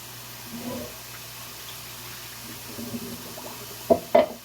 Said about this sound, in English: I guess I'll go ahead and try and strain the noodles